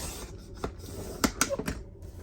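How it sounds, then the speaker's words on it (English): A sketchbook page is trimmed by cutting a half-inch strip off its edge, giving a few short, soft rasping strokes, close but quiet, with brief pauses between. "We're going to cut a 1/2 inch"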